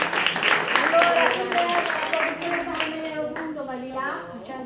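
Audience clapping breaks out to welcome a guest at an event in a gallery, a warm round of applause that fades while a voice talks over it nearby.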